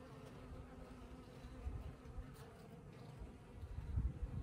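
Honey bees buzzing around an opened beehive in a beekeeping setting, a steady dense hum that swells toward the end, with no talking.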